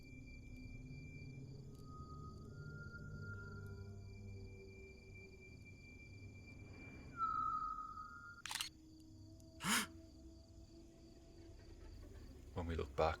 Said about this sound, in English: We take out our phone and start zooming in.